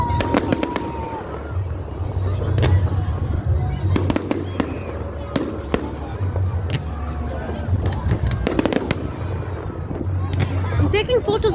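Fireworks at a fun day burst repeatedly in sharp cracks and pops with rumbling booms between them, while people chat and a crowd murmurs throughout.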